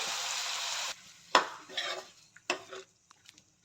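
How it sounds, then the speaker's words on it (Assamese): Sesame seeds and pork meat fry in a pan with a loud, close sizzle that cuts off after about a second, followed by a few utensil scrapes and clinks while stirring, with softer sizzling between. "ধুনীয়াকৈ তিলখিনি মাংসৰ লগত ভজা যাব দিব।"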